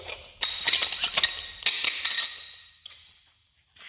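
A metal bolt clinks and taps against metal while being handled, a run of close, bright metallic clinks over about two seconds before falling quiet.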